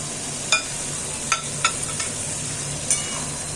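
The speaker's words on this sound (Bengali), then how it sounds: "কপিগুলো আমি দিয়ে দিচ্ছি মশলা অনেকটা কষে এসছে একে একে কপিগুলো আমি দিচ্ছি" Cauliflower pieces dropped one by one into a pan of well-fried spice masala for Bengali fulkopir badam moshla, giving a steady close sizzle broken by a few sharp clatters and scrapes as each piece goes in.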